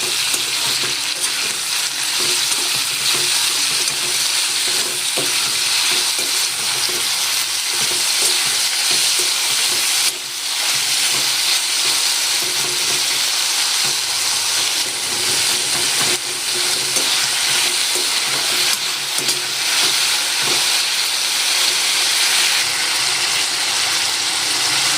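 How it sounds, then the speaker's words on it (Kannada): Sliced onions fry in a pan with a pinch of salt, a loud steady sizzle and crackle running continuously with faint stirring scrapes and no voices. "ಈರುಳ್ಳಿನ ಒಂದು ಅರ್ಧ ಫ್ರೈ ಮಾಡ್ಕೋಬೇಕು."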